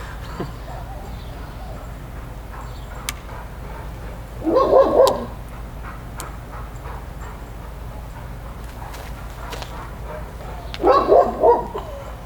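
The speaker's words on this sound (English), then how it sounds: "Sorry about the dog barking in the background." Two short bursts of dog barking from a distance in a backyard, a few seconds apart, over a steady low outdoor hum.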